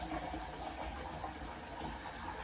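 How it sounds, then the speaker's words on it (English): Water runs steadily into a container for a mini sweet potato pie recipe in a home kitchen, a continuous close splashing fill with no talking. "Just put a little water in there, y'all."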